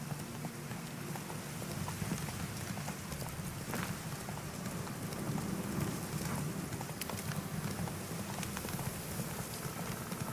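Hooves of a horse clip-clopping at a steady run in The Witcher 3: Wild Hunt, a continuous close rhythm over a constant rain-like wash of background noise, with no talking.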